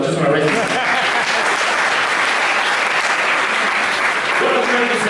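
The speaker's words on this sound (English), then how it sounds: "I think this deserves a round of applause" An audience at a comedy show breaks into dense, loud applause, a continuous wash of clapping that fills the whole stretch without letting up.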